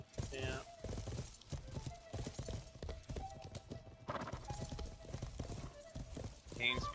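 Horse hooves clip-clop rapidly across terrain in a medieval battle video game, with a horse whinnying now and then. Clashing battle noise fills the background, and voices talk over it.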